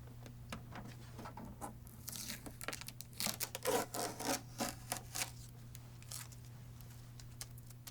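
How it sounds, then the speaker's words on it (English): Packing tape pulled off the scanner lid of a new HP DeskJet GT 5820/5810 printer, a run of close, sharp peeling and ripping strips, busiest in the middle, over a faint steady hum. "start removing the tape securing the scanner lid in place"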